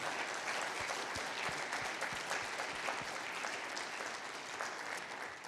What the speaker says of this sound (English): could you give the Learning and Work team a round of applause?